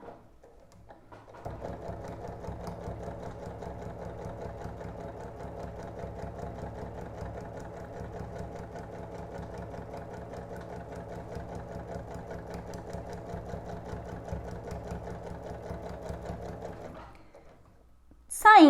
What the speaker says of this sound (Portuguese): Então, eu baixo meu pezinho e volto a costurar.